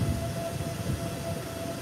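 A train at Hua Lamphong Station in Bangkok gives off a steady, low rumble with a faint sustained tone riding above it, continuous and unbroken, with no voices.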